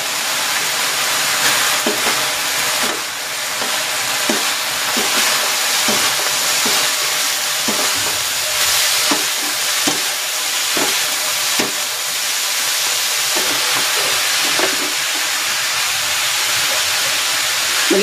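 Papaya sizzles steadily as it is sautéed in a hot pan, a continuous loud frying hiss with scattered small pops and stirring scrapes, close up and alone.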